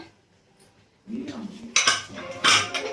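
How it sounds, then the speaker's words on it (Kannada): A pressure cooker whistle weight is set onto the lid while cooking chicken: a few sharp metallic clinks and knocks of metal on metal, close and brief, after a quiet start. "ಸೊ ವಿಷಲ್ ಹಾಕ್ತಾ ಇದ್ದೀನಿ."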